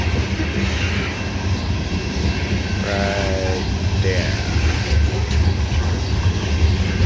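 CSX loaded coal freight train rolling past nearby, a steady loud rumble of wheels on rail with brief screechy squeals, under a voice.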